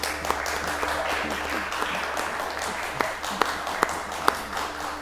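Applause for a chamber ensemble at the close of a didgeridoo composition workshop, a steady wash of clapping with a few sharp, close individual claps standing out toward the end.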